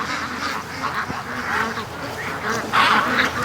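Free-range ducks quacking in a wet yard alongside a goose's honks, several close, overlapping calls that grow louder near the end.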